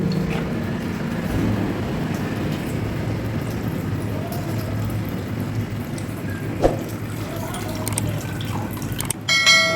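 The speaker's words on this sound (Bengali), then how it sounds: "এগুলো জলগুলো ভালো করে আমি ধুয়ে নেবো যতক্ষণ না ট্রান্সপারেন্ট সাদা জল বেরোচ্ছে" Rice being washed in water for pulao, a steady soft sloshing and trickling of water with occasional small splashes and a clatter near the end.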